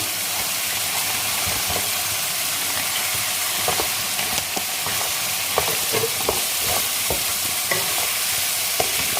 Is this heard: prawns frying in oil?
yes